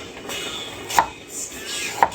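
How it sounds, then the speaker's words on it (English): A knife chops leftover carrots on a board in a home kitchen, two sharp, crisp chops about a second apart over a soft, steady background. "I'm chopping up the carrots."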